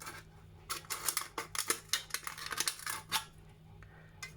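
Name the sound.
cutting a tin can with scissors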